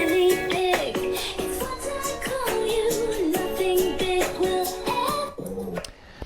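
Original recording of a track, a full band piece with sustained melodic lines and steady rhythmic hits, loud and continuous before thinning out near the end.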